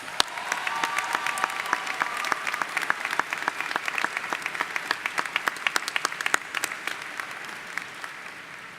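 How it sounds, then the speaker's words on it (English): Audience applauding special guests at a college commencement ceremony, sustained clapping from a large crowd with crisp individual claps standing out over a steady roar, moderately distant and continuous. "Please join me in applauding these special guests."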